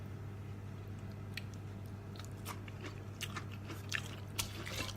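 Someone chews spicy Isan bamboo shoot salad made with white sesame and toasted rice, close to the microphone. A few soft, crunchy bites and wet chewing sound over a steady low hum.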